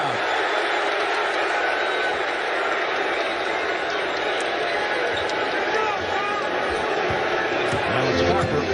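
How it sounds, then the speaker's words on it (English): A packed NBA Finals arena crowd roars continuously, a dense loud wall of cheering that swells slightly near the end, with a commentator talking over it. "That ignites the crowd."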